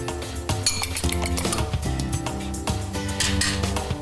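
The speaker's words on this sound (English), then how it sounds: "Next, let's beat an egg." An egg beaten in a bowl with a utensil, giving rapid close clinks and taps against the bowl in a busy, continuous rhythm, loud and with no talk over it.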